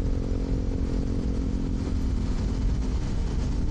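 Two motorcycles cruise along a road at night at about 60 to 80 kph heading toward Olongapo, a steady low engine drone and road rumble, close and continuous, with no talk.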